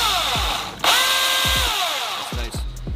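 A Milwaukee battery-powered chainsaw revs in several short, close bursts, its motor whine rising and falling with each trigger pull, with one longer sustained run in the middle.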